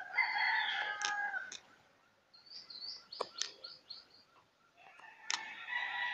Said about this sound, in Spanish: y por ahí se escucha un pájaro, gallos, gallinas.